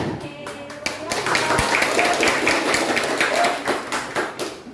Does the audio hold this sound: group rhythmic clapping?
yes